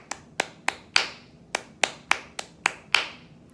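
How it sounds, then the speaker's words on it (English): Ten sharp, close hand claps tapping out a syncopated rhythm from a viola part of "Christmas Dreidel," unevenly spaced with quick pairs and longer gaps, each crisp and dry, with no talking. "If you were to clap that rhythm, it would sound like this from 22"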